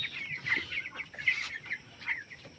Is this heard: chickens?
yes